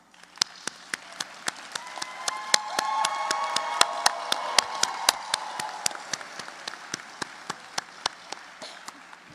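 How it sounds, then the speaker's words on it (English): Audience at a pharmacy graduation ceremony claps, a faint, sparse patter of individual claps swelling briefly in the middle and thinning toward the end. "Graduates, please stand and give them a round of applause"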